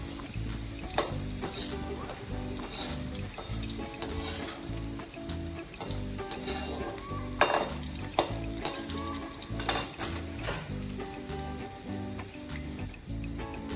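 Chillies sizzle and crackle steadily in hot oil alongside garlic for a dhani papad chevdo, a dense, close frying sound with scattered pops and light stirring throughout.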